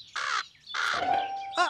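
Several harsh bird caws in quick succession, loud and close, with a short gap between bursts and no other sounds.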